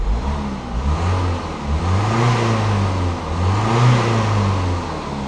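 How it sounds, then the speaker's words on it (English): A 2018 Peugeot 208 diesel engine revs up and down with a steady, close mechanical drone, repeatedly rising in pitch before settling back, with no one speaking. "It's your typical diesel, really, isn't it?"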